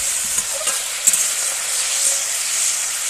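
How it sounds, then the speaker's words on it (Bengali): Spiced tomato masala with turmeric and chilli powder sizzling and frying steadily in a pan, a soft continuous hiss with a few faint stirring scrapes. "টমেটো কুচি, হলুদ লঙ্কার গুঁড়ো পরিমাণ মতো দিয়ে ভালো করে একটু মশলাটাকে কষিয়ে নেব।"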